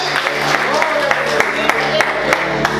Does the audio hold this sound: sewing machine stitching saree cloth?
no